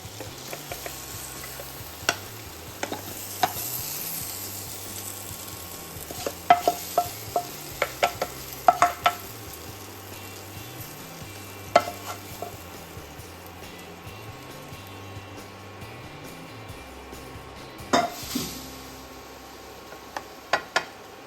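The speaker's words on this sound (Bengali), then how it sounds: "একটু বেরেস্তা বানিয়ে নেব পেঁয়াজকে স্লাইস করে কেটে" Sliced onions frying in oil for birista give a steady low sizzle, with scattered stirring clinks and scrapes over about twenty seconds and no talk.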